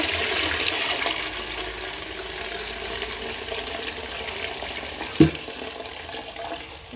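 A toilet cistern with a blue cleaning block flushes, a sustained rush of water draining and refilling nearby, with a brief knock partway through and no speech.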